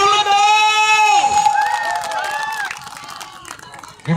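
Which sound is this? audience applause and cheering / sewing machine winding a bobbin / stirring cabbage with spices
audience applause and cheering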